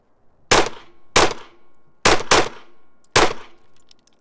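Five loud, sharp shots from a Glock handgun ring out on a range, two single shots followed by a quick pair and a final shot, each with a short echoing tail and no talking.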